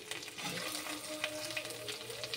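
Onion, garlic and ginger paste frying in hot oil with a steady, crackling sizzle, close and continuous, with faint stirring and no voices.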